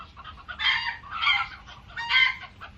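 Chickens cluck and crow in three loud, close bursts of squawking calls over a quiet background, with no talking.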